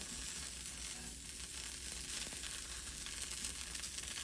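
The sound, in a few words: butter sizzling as it is spread on a hot pearl millet dish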